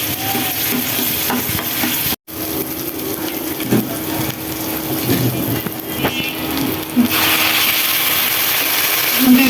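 Onions fry hard in hot oil with a dense, steady sizzle and crackle, with occasional stirring scrapes and a brief break partway through, then growing louder and brighter toward the end.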